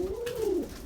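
Belgian racing pigeon giving a single drawn-out coo, close and clear against a faint background hum.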